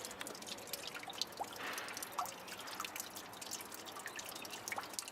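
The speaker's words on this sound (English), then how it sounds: "Water coming from the pig." Water trickles and drips from a pig-shaped fountain in the town centre of Berchtesgaden, Germany, a soft continuous splashing with occasional distinct drops, moderately quiet and close.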